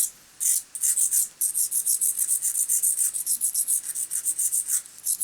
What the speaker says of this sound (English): I sharpen this like so. Just a few dabs